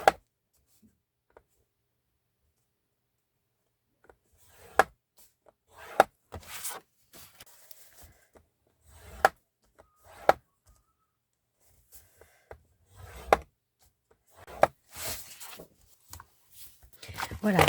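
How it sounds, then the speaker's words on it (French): Folds in 15x30 paper pages for a handmade mini album being creased by hand, a series of sharp rubbing and pressing strokes in irregular bursts, close, with a voice talking between them. "il ne me reste plus qu'à marquer les plis de toutes"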